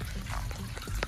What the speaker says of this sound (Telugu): ఈ వాటర్ అంతా కూడా దిగిపోతుంది మనకి